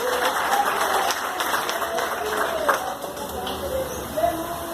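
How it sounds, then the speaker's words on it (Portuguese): A church congregation applauds at an evening service, a steady wash of clapping from many hands filling the room throughout. "Só a igreja de Cristo aqui nesta noite aplaude o nome do Senhor Jesus"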